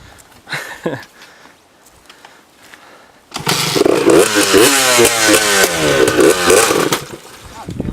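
A Honda CR125 two-stroke dirt bike engine pops into life after a quiet stretch with brief voices, then revs hard and loud up close with rising and falling pitch as it rides off.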